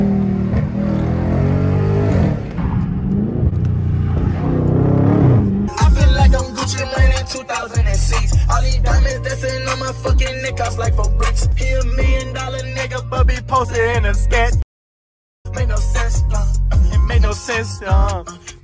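A Scat Pack muscle car's engine rumbles and revs while driving, with deep throaty pulses and surges of acceleration, loud and close, interrupted by a brief moment of silence near the end, while music plays along.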